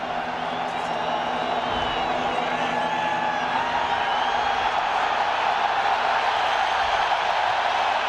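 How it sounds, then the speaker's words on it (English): Deafening stadium crowd at a 1998 college football game, Nebraska playing at Kansas State: a steady, dense roar that fills the whole stretch without letting up, with faint cheering inside it. "Deafening already the crowd here at the stadium"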